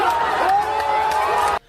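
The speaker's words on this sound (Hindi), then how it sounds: "वो भी नारे लगाते हुए आगे बढ़ गई" A crowd of protesters chants slogans, a loud massed roar of raised voices with a sustained shout running through it, cut off abruptly at the end.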